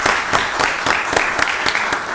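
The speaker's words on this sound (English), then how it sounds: "the deputy director a round of applause" A meeting audience at a county board of commissioners session claps for the deputy director, a short burst of fairly close applause with some individual claps standing out.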